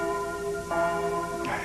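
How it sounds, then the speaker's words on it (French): Church bells ring out at a ceremony in a 1977 French film of The Prince and the Pauper, a sustained resonant tone with overlapping harmonics and a fresh strike near the end. "Et voilà les cloches qui sonnent."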